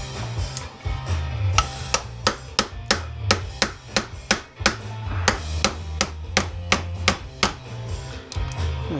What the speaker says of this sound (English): The chisel is not doing too good of a job. That's some pretty thick copper there.